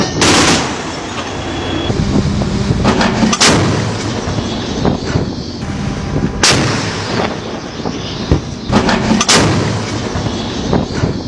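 Kenya Navy 76mm naval gun firing a surface bombardment, heavy booming shots repeating roughly every three seconds, loud and close, each followed by a rumbling echo, with no talk over it.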